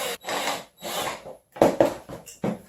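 Number 8 self-drilling screws are driven through a camera mount into a fence with a power driver, heard as several bursts of whirring and grinding separated by short pauses, close and loud, with no talk.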